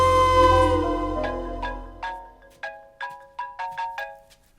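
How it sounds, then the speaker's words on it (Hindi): Phone ringtone playing a short chiming melody of bright, bell-like notes, ringing alone and fairly clear after a lower opening tone. "फोन बज रहा है।"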